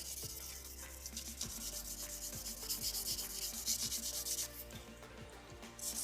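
A soft 120-grit nail buffer rubs across fingernails in steady back-and-forth strokes, a close, continuous scratchy swishing with no voices.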